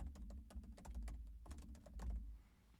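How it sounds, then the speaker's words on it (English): Keys clatter on a computer keyboard in quick, irregular bursts of taps with short pauses, fairly close and alone. "So we'll go ahead and type this in."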